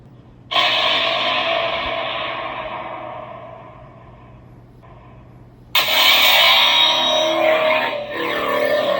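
A Star Wars seismic charge effect from the FET sound font on an installed 89Sabers ProffieClip lightsaber: a loud sustained whooshing roar that slowly fades, a brief pause, then a second loud sweeping burst, with no talking.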